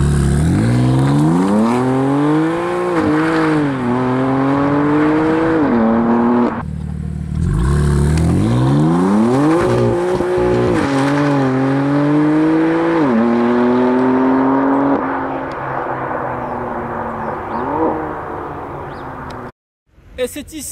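Stock titanium M4 GTS exhaust on a BMW M4 CS revving repeatedly, loud and close, with rising and falling engine pitch and a brief pause midway before more blips, ending abruptly.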